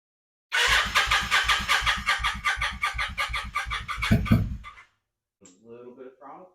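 A Kawasaki Vulcan 750 motorcycle engine cranks and catches with the choke on, giving a loud, rapid rhythmic chugging for about four seconds before cutting out; someone speaks briefly afterward.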